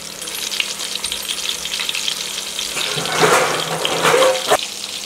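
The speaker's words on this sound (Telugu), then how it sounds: "ఫ్రై అవుతున్నాయి." Fish frying in a pan with a steady hiss and crackle of oil, growing louder with bursts of sizzling and a few clinks near the end.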